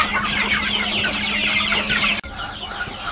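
A flock of golden chickens clucks steadily while feeding at a Bengali poultry farm, dense overlapping calls close by with a low mains-like hum underneath; the sound briefly drops out near the end, then clucking resumes.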